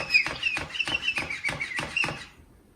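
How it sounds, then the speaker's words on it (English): A small sparrow chirping close by in a quick, regular series of about seven high, sharp chirps, then falling quiet. "Uh-oh, it's a sparrow."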